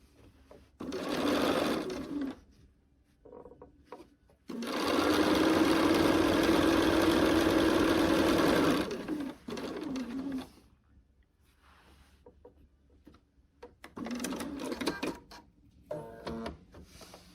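A sewing machine stitches a quilt block for a Stars & Snowballs quilt in bursts: a short run, then a long steady whirring stretch, and later shorter runs, close up with quiet pauses between.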